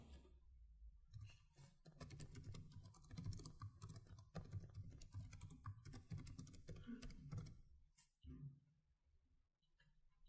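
Continuous, faint clatter of typing on a computer keyboard as an account description is entered, with rapid dense key strikes that pause briefly near the end.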